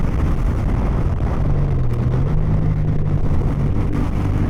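Chinese adventure motorcycle ridden off-road at speed, a steady loud engine drone with rushing wind noise throughout and a low pitch that rises and dips slightly as the bike holds pace.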